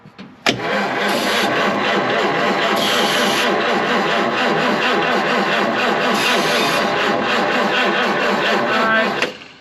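A 1953 Chevrolet engine cranks continuously for about nine seconds, the starter churning in a fast, even rhythm without the motor catching, then cutting off abruptly.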